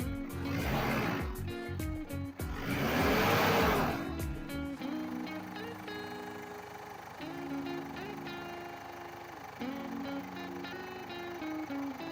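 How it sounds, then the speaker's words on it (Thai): A Ford Everest 3.0 XLT Limited 4x4 automatic SUV engine cranks and catches in two loud bursts, then settles into a steady, low idle with a faint rhythmic ticking. "ก็เดี๋ยวสตาร์ทเครื่องนะครับ เดี๋ยวจะให้ลองฟังเสียงดู"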